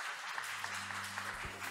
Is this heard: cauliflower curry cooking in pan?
no